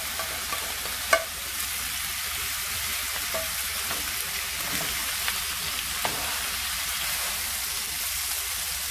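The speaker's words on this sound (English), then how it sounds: "Just saute it for a while." Pork ribs sauté with ginger in a hot pan, giving a continuous crackling sizzle with a few sharp pops and utensil clicks, fairly quiet and steady throughout.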